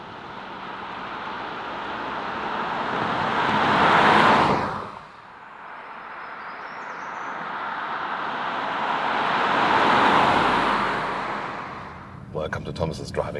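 Renault Arkana RS Line SUV coupé driving in urban traffic, with road and engine noise swelling and fading twice as vehicles pass, and a person talking throughout.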